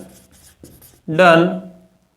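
A teacher writes on a classroom board during a physics lesson, the marker giving a sharp, loud squeaking stroke after a few softer scratches.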